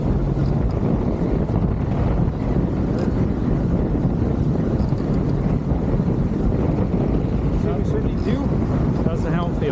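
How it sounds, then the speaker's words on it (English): Strong gusting wind roars continuously across the microphone aboard a Schionning catamaran sailing fast in 26–27 knots with jib and double-reefed main, water rushing beneath; loud, steady buffeting throughout. "we've got 26, 27 knots of wind, just with the jib up, and 2 reefs in the main, going 16 knots."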